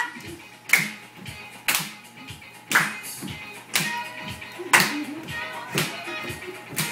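Rhythmic hand claps, one roughly every second, mark a step-clap move in a group flash dance for a birthday, sounding sharp and fairly close over low background music or movement.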